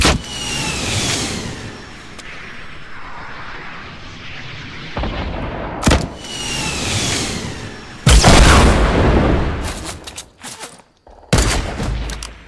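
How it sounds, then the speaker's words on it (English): Rocket launcher blasts in the video game Fortnite, with loud booming explosions in several bursts over rumbling engine-like noise and sharp gunfire cracks, the heaviest impact coming near the end. "About to freaking rocket launch this guy."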